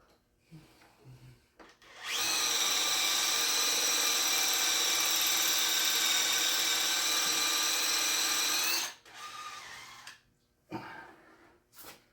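A power drill whines at high, steady pitch for about seven seconds drilling into an LS crankshaft balancer, loud and close, with brief quieter scraping and handling noises before and after.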